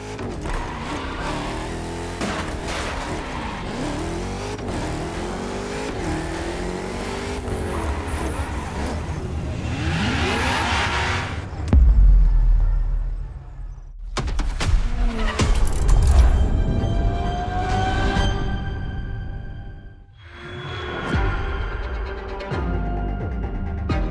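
Ferrari supercar in the racing game The Crew Motorfest, its engine a steady broadband drone that swells and rev-sweeps through the drive, with a couple of deep thumps and brief drops in level.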